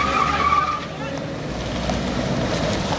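A car drives along a road, its engine and tyre noise steady at moderate distance, and a voice speaks briefly over the start.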